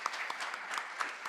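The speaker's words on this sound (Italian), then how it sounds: "Ancora un applauso per Luana De Francisco e" Audience at a journalism festival talk breaks into steady applause for two guest authors, a dense, even patter of many hands with a few sharper claps standing out, moderately loud throughout.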